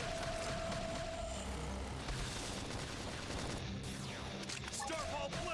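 Video game gunfire in a busy battle scene, rapid overlapping shots and bursts with booms and crashes, dense and continuous under music and effects.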